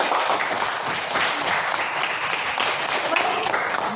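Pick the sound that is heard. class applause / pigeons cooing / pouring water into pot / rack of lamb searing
class applause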